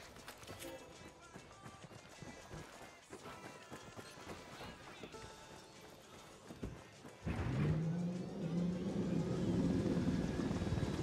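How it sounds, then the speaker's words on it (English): Helicopter in the Ghost Recon Wildlands video game starting up, a loud rotor and engine whine rising and holding steady over the second half, after busy game sounds and player chatter. "Get that chopper fired up and ready to roll."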